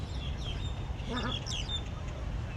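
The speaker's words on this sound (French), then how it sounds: "Et là, tous les petits canards." Little ducklings at a pond with small fish call out in brief chirps and quacks, heard at moderate distance over a steady outdoor background rumble.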